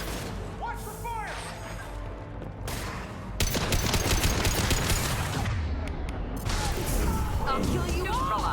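Rapid gunfire in the Mass Effect Legendary Edition video game, with bursts of shots and crashes throughout, growing louder and denser partway through. Voices talk over the combat noise.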